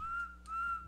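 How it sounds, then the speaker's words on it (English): Baldi in the Baldi's Basics video game whistles in two short, clear, steady-pitched notes, one right after the other, with a faint low hum beneath and no speech. "He whistled three times in a row."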